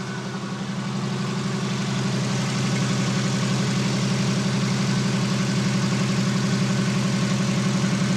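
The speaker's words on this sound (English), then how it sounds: "Motor runs just awesome." Idling Subaru motor in a van conversion with stainless exhaust, a close, loud, smooth rumble with a regular throbbing pulse that settles into a constant drone.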